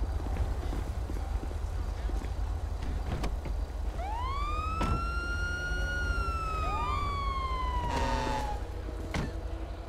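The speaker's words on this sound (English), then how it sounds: "When you get out, the siren goes off automatically." A police car siren in the video game GTA 5 wails up in a long rising and falling sweep, then a second sweep overlaps it, over a constant loud engine and road rumble with scattered knocks.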